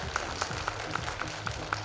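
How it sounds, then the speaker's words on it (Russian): An audience at a concert at the Kolomna House of Culture applauds in a steady, rhythmic unison clap, faint and distant, with evenly spaced beats. "Ваши аплодисменты, дорогие друзья!"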